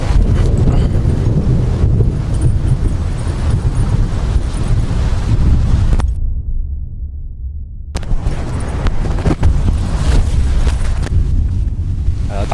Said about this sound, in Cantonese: 因為風聲同雨聲太大啦